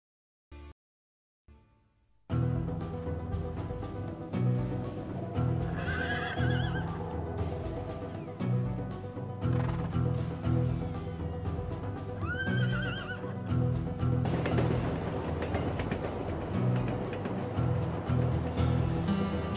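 A horse whinnies twice over steady clip-clopping hooves on a road, with music playing throughout after a brief quiet start.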